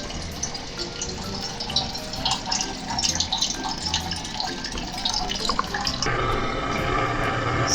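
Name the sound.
water running from a tap for cooking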